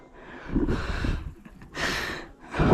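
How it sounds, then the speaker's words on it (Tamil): Heavy, labored breathing from a hiker climbing a mountain trail to a hilltop temple, three loud gasping breaths close to the microphone with short pauses between them. "மூச்சு வாங்குது இல்லை முடியல."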